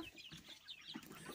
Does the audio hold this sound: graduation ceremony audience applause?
no